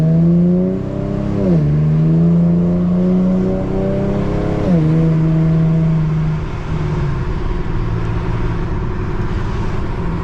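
An Infiniti G37 and a Toyota Camry XSE run on a Mexican highway, heard from inside as a loud, steady engine drone that climbs in pitch under acceleration, drops at two gear shifts, then holds cruising with road rumble.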